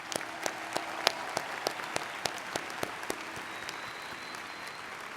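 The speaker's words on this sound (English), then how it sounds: "Will the audience please join me in applauding these honors candidates?" A commencement audience gives the honors candidates a smattering of applause in a large hall, sparse distinct claps landing at a steady pace, loudest early and thinning out as it fades.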